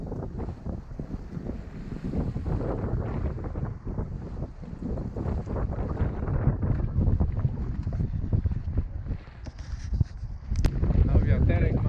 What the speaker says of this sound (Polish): No wiaterek mamy ładny.